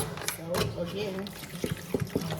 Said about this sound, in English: some more water on top